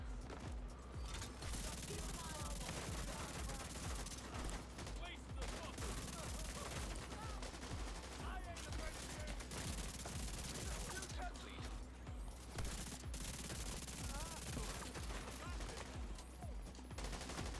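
Rapid gunfire from FAMAS and CTAR assault rifles in The Division 2, dense and continuous bursts filling the whole stretch amid a busy firefight, with game sounds layered throughout.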